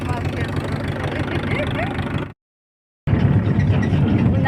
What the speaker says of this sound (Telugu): కదులుతుంది ట్రాక్టర్ ఒకటి.